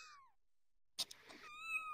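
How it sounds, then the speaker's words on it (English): Cartoonish cat meows from avatars in the VR game VRChat: a couple of gliding meows, then a burst of clatter and a longer sustained meow, fairly close and loud. "Being assaulted by kitties."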